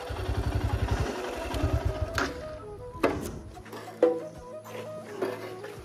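A motorcycle engine idles in low, throbbing pulses as the bike is parked at the roadside, then it cuts out amid a few scattered clicks and clatters, close by, with no talk.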